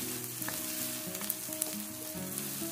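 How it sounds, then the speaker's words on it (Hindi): Chopped onion, ginger and crushed garlic sizzle steadily in hot oil in a pan for chana dal, a continuous close crackle and hiss with occasional stirring scrapes and no voices. "प्याज और लहसुन अदरक को हम अच्छे से मिलाकर इसको गोल्डन ब्राउन होने तक भून लेंगे"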